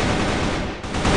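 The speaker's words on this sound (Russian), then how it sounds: "Под лестницей стрельба, над лестницей" Gunfire in the CrossFire shooter during a competitive match on the Port map, a dense burst of rapid automatic shots and rattling fire, loud and continuous with a brief dip.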